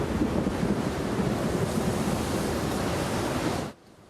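A strong wind sweeps across a dry savanna, buffeting loudly as a continuous roaring rush that cuts off abruptly near the end.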